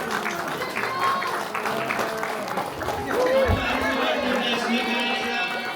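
Guests at a Gurung engagement ceremony clap together, a steady mass of applause that swells near the middle and carries on to the end, with crowd chatter mixed in.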